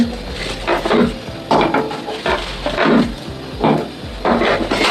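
Solid pieces of palm jaggery dropped one by one into a cooking pot for milk chitoi pitha, giving a series of knocking thuds and scraping clatters at a steady pace, close and fairly loud, with no talking.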